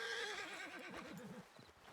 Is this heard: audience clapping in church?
no